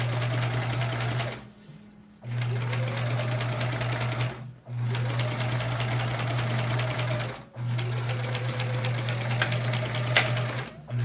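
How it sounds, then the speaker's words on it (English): A sewing machine stitches a paper-pieced quilt block in three long steady runs, a close droning hum with rapid needle clatter, separated by short pauses, and no one speaks. "I'm just sewing right along that line"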